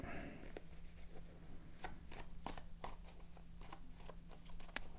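A classic deck of playing cards is shuffled in a quiet room: soft riffling and sharp card snaps come in a series of irregular bursts, faint and close.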